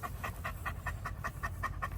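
A German Shepherd panting steadily at close range, with quick, even breaths repeating about four times a second against low background rumble.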